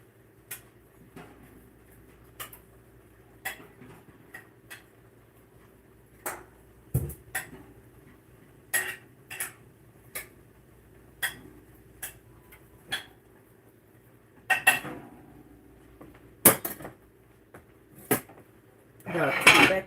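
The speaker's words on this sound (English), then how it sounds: "We're going to give our yams a stir." A spoon clinks and taps against a pot of yams on a home stove, sparse sharp knocks at irregular intervals that cluster and grow louder toward the end, with quiet room tone between them.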